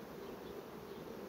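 A large honeybee colony hums during a hive inspection, a dense, even, quiet buzz with no voices.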